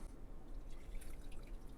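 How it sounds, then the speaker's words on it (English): Purple butterfly pea flower syrup is strained out of a pot, a soft, close trickle and drip of liquid that runs steadily for a couple of seconds, quiet and alone. "I'm going to strain the flours out."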